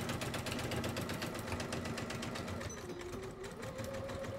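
An Elna Excellence 780 Plus sewing machine stitches steadily at a fast, even pace while a bag front is sewn. The needle's rapid mechanical chatter and motor hum sound close and continuous, without speech.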